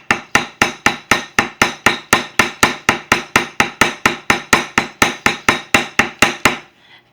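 Steady pounding with a very small wooden baseball bat while making tsa tsa: about twenty sharp, even knocks in a regular rhythm, close and loud, ending with a short quiet tail, no talking.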